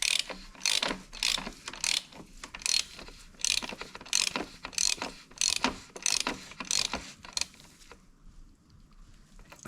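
Close ratcheting clicks from a torque wrench tightening a plastic oil filter housing on a 2009 Volkswagen Golf Mk6 2.0 TDI, around a dozen quick bursts of rapid pawl ticking, then a brief quiet stretch with no voices.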